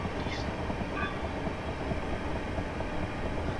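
A Class 375 Southeastern electric train runs through a station without stopping, giving a steady, loud rolling rumble with faint higher squeals throughout and no talk.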